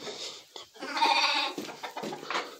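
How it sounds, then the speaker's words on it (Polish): Sheep on a ranch bleat repeatedly, several wavering calls close by in quick succession with short pauses between them, over a quiet farmyard background. "Wypuścimy owce na pole, na chwilę poganiają."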